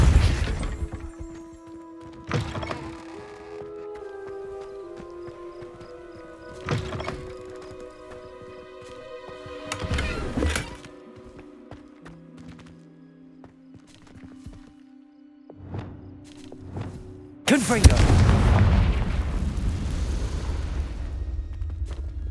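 Spell effects from Hogwarts Legacy on Xbox Series S, Accio and Depulso: a series of sharp magical bursts and whooshes with ringing tonal tails, ending in a loud, sustained crashing rush.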